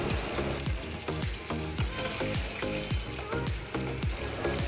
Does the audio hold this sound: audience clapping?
no